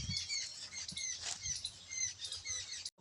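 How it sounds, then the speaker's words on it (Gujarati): Rain begins to fall on farm fields of mung and urad beans, a faint, light patter with intermittent bird chirps over it. "વધારે વરસાદ ચાલુ થઈ ગયો"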